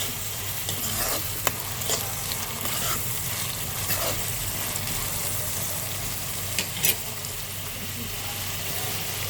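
Ginger and garlic sizzle in hot oil for a dhaba-style dal tadka, with a steady broadband hiss and occasional stirring clinks. The sizzle carries throughout, and a faint murmur of background sound runs underneath.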